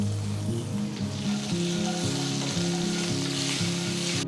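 Peanuts, asafoetida and curry leaves sizzle in hot oil as they are stirred, a dense, even hiss that runs throughout over steady background music, while an Ugadi festival dish is prepared.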